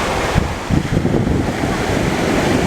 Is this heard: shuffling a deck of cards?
no